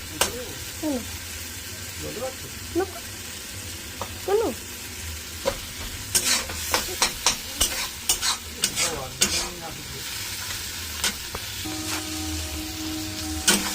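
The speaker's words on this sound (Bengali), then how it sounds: "দু দু থেকে তিন মিনিট কষাবো" Paneer mixture stir-fried in a pan, with a steady sizzle under repeated rhythmic spatula scrapes and taps that quicken midway, close up; brief background voice sounds come and go.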